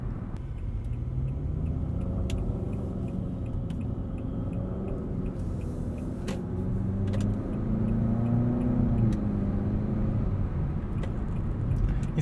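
A 2020 Nissan Altima Platinum pulls away from a standstill, its engine rumbling and rising steadily in pitch as it accelerates, heard from inside the cabin with continuous road noise and no talking.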